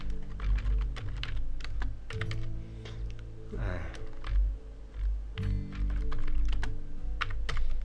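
Computer keyboard typing in quick bursts of clicky keystrokes, close and steady, while entering text for a credit roll in Sony Vegas Pro, with a low hum underneath and a short pause midway.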